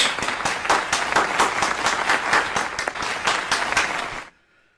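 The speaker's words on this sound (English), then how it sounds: "Clap it up!" A small group claps enthusiastically for about four seconds, steady dense applause close to the mic that stops abruptly.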